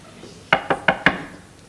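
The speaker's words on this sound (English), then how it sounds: "I remember very clearly when your mother came knocking at my mother's door." Four sharp, evenly spaced knocks strike a wooden door, close and loud, with a short ring after each hit and no voices.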